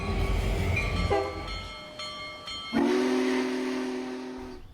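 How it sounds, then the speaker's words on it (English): The Union Pacific Big Boy 4014 steam locomotive sounds its whistle, a loud, sustained, chime-like blast that changes pitch partway through, rising over a steady hiss and rail noise with no talking. "Today we're going to see the world's largest operating steam locomotive."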